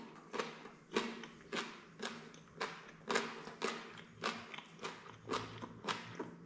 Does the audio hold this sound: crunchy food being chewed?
yes